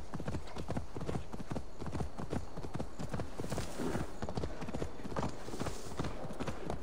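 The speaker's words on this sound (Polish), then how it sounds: "Kurczę, jak to koniem szybko idzie." Horse hooves galloping at a quick steady rhythm in Assassin's Creed Valhalla, close and continuous throughout, with faint ambient wind and movement beneath the hoofbeats.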